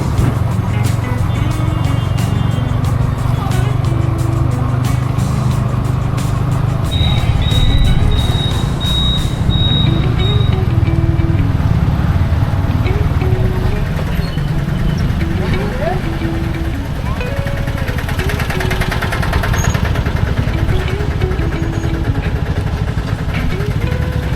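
A motorbike ridden along a road in Habra heading toward the Gobardanga rail gate, its engine a steady low drone throughout, with faint traffic and a brief high tone near the middle, and people talking over it.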